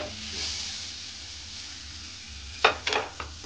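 A spoonful of butter sizzles in a little hot oil in a pan, a steady soft hiss that runs throughout, then a few sharp clinks of a utensil against the pan near the end.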